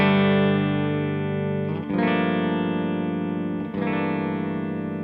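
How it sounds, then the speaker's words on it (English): Telecaster electric guitar on the bridge pickup played through a Rev D20 amp: sustained, distorted chords ringing loud and thick, with two brief restrikes partway through, no voices. "I'm playing my Tele into my Rev D20."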